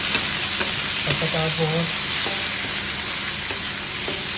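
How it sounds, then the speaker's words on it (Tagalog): Chopped tomatoes sizzle and fry steadily in a hot pan as they soften down for a salmon and bean sprout dish, a continuous loud crackle with stirring scrapes and a brief spoken word over it. "Lutuin muna natin yung kamatis hanggang sa lumambot at mag-dissolve siya."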